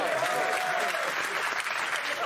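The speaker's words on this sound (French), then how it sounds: "On applaudit quand même" Applause from a studio audience at a French TV entertainment show, steady clapping throughout with a voice talking briefly over it near the start.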